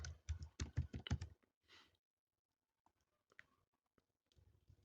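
Keys clatter on a computer keyboard as a word is entered into a Flash/Animate virtual-lab project, a quick dense burst of close clicks followed by a pause and a few scattered, fainter taps.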